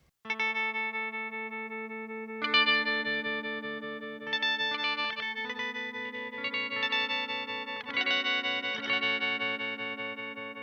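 Electric guitar run through a Chase Bliss Mood Mk2 pedal in stereo slip mode, sustained chords layered with shifting, warbling effected repeats that swell at each new strum, steady and close with no talk.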